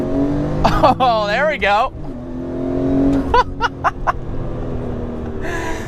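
Engine of a supercharged BMW E46 M3 revving hard inside the car, rising and falling in sweeping bursts with a whining supercharger tone, then several short sharp blips, with a person speaking briefly.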